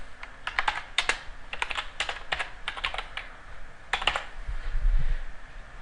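Typing on a computer keyboard while entering text in PhotoFiltre Studio X, heard as close bursts of rapid key clicks with short pauses between them and no talk.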